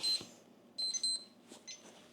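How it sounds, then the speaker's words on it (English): A kitchen timer goes off while meatloaf cooks, giving a couple of short high electronic beep bursts, fairly faint in a quiet room. "oh, here we go. There's our timer."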